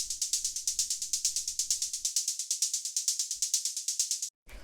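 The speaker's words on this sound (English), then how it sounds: "just a bit of white noise going into a bandpass filter" Synthesized hi-hat built from white noise run through a bandpass filter for a mid-range techno tone, ticking in a steady fast loop of bright hissy hits, loud and alone, with a soft low pulse under the first half.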